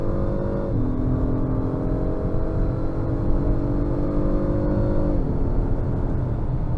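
A 2025 Acura MDX Type S SUV with a 3-liter single-turbo V6 accelerating under full throttle, a smooth rising engine drone with a clear shift partway through, heard from inside the cabin.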